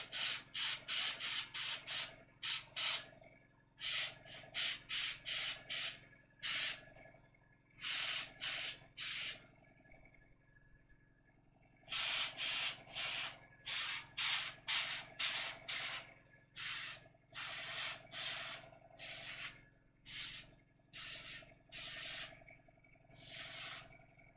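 A Legion of Everblight miniature being spray painted: short, close hissing bursts from the can in quick rhythmic runs, then a pause and another rapid series of sprays, with no talking.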